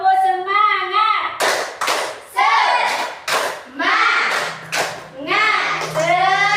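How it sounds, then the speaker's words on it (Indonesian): Schoolchildren repeat a tepuk semangat clapping chant in a classroom: a teacher's voice gives the cue, then the class answers with quick rhythmic group hand claps mixed with loud chanting voices, close and energetic. "Sekali lagi, tepuk semangat."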